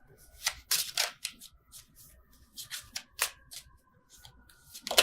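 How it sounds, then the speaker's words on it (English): Tarot deck shuffled by hand during a love reading: uneven bursts of crisp card riffling and slapping, close and fairly loud, with short pauses between clusters. "Terrible shuffling with you guys."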